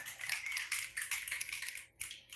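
An open mic night audience snaps their fingers in a quiet, dense patter of many overlapping snaps that lasts about two seconds and then stops.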